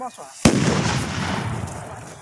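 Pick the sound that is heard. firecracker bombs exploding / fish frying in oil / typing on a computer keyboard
firecracker bombs exploding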